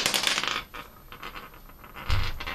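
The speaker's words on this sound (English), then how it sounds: "His dice literally slapped my dice into a 1" Dice clatter onto a tabletop during a tabletop wargame roll-off, a sharp rattling burst followed by a few lighter taps and a final knock as they settle.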